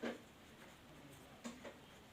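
Faint strokes of writing on paper or a board during a class 10 maths lesson on sectors, a couple of soft scratchy marks over a low background hum, with no talking.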